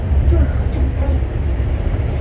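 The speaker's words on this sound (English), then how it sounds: "So the train seems to be going very fast now." A high-speed bullet train in China runs fast, heard from inside a carriage as a loud, steady low rumble and rushing hum throughout, with faint talk now and then.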